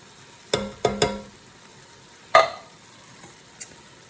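A can of petite diced tomatoes, undrained, goes into a sizzling meat sauce: three quick splashy thuds close together, a louder plop a moment later, then one small knock over a faint background hiss.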